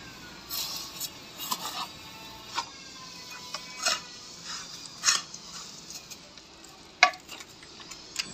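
Wet-leaf compost being stirred and mixed, soft scattered squelching scrapes and rustles in irregular bursts, fairly quiet and close with no talking.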